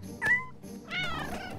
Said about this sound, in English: Aw, it's a little kitty.